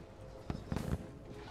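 Firework-like explosions in the video game Risk of Rain 2, during a run with everything multiplied tenfold: a quick crackle followed by a denser cluster of pops, fairly faint and without talk.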